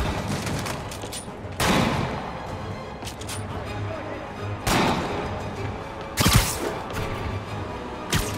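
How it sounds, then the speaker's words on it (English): Gunfire from enemies in the video game Marvel's Spider-Man Remastered, heard as several loud, sharp bursts spaced a few seconds apart over a constant game ambience. "Open fire!"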